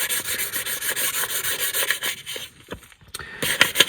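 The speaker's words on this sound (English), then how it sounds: "I'm doing this with the thinnest sandpaper that I found, just so that it thins it out" Fine sandpaper rubs quickly back and forth on a small 1:64 die-cast Chevy Tahoe in close, rhythmic rasping strokes, with a brief pause before resuming.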